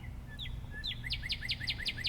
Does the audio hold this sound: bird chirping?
yes